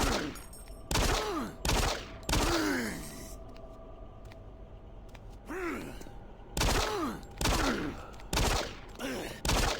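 Gunfire from a gun in Doom 3, the 2004 PC survival horror shooter set on Mars, loud separate blasts in uneven bursts with creature groans and gasps between shots.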